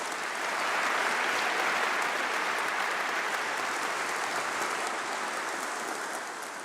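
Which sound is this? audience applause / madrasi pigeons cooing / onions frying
audience applause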